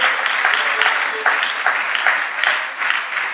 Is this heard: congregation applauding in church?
yes